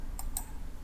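Two quick, faint computer mouse clicks sound close together during CAD software work, over a low steady room hum.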